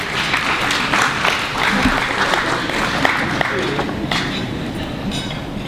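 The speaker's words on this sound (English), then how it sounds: "Can we all please give him a round of applause?" Audience applause at a chamber of commerce general members' meeting, steady dense clapping filling the room throughout with a few louder claps poking through.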